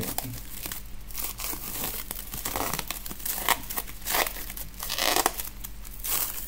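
Plastic food-wrap film around a boxed manual-focus camera lens crinkles and crackles continuously as it is handled and peeled, with close, steady rustling bursts and no talking.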